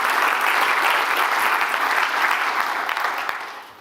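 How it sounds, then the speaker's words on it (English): Audience at the Scottish Cardiac Arrest Symposium applauds steadily, a dense wash of many hands clapping that holds evenly before tapering off near the end. "We'll give you a big clap as well."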